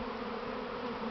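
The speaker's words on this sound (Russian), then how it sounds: "Пчел много по земле бегая." Honey bees hum in a dense, steady drone during an April spring swarm, many insects buzzing together close by with no voices.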